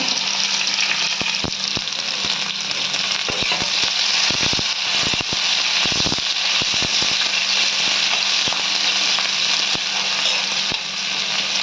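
Onions and curry leaves with a pinch of salt fry in hot oil for an Ambur chicken fry, giving a loud, continuous sizzle close by, dotted with sharp crackles and pops throughout.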